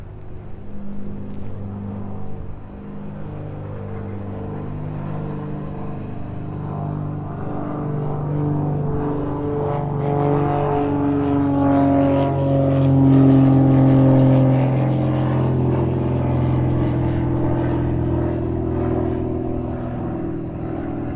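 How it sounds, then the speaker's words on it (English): Aircraft engine drone at East Midlands airport, a broad rumbling whine that swells and shifts in pitch over about twenty seconds, steady and fairly loud, with no voices. "Aircraft taking priority then over the Ryanair."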